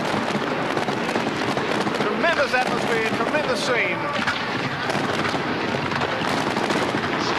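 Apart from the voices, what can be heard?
fireworks exploding over stadium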